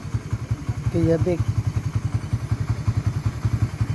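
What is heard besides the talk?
Suzuki Raider 150 motorcycle engine running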